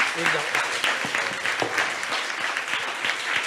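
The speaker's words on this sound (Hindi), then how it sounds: "मैं चाहूंगा दोनों हाथ उठाकर जोरदार तालियां बजाइए" Audience applause fills the hall after a qawwali performance by children at a school event, a steady dense clapping that runs continuously and fairly loud throughout with no pauses.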